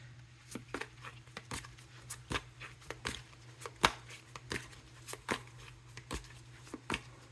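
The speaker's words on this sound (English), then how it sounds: "Honestly, I'm feeling one more good shuffle." Tarot cards being shuffled by hand before a Celtic cross reading, a steady run of crisp riffling snaps and slaps up close, with a low constant hum beneath and no talking.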